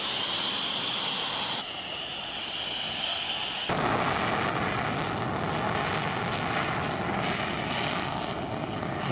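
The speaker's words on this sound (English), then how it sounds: "There goes the jet." A jet plane, apparently military and heading out on strikes, flies over with a loud, sustained broadband roar that fills the whole stretch and swells partway through.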